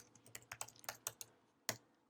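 Fingers tap on a computer keyboard, entering a business name into a Facebook page setup form, with a quick run of close keystrokes, a pause, then one louder final key press.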